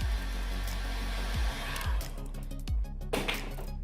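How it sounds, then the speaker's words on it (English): A heat gun blows a steady, loud rush of hot air onto an iPhone XS Max during a screen repair, interrupted by a few sharp knocks and clicks as the tool is moved about. "you're going to blow heat on this side"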